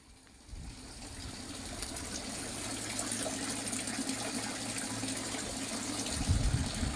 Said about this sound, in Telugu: ఒక్క దీంట్లో వాటర్ పడుతూ ఉంది